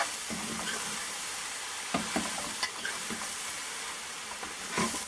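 Eggplant, potato and tomatoes stirred together in a pot, with a soft continuous sizzle and hiss of frying under occasional scraping and knocking of the spoon, fairly quiet.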